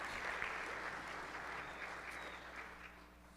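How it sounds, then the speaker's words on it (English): Steady applause fills a town hall meeting, a crowd clapping continuously at moderate distance with a dense, even texture that eases slightly toward the end. "Claps"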